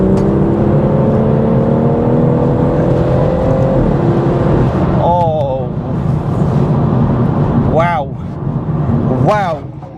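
A BMW M140i Shadow Edition hot hatch with a 460 bhp engine drives hard, its engine droning loudly and rising in pitch, then gear shifts and revving bursts follow while people talk over it.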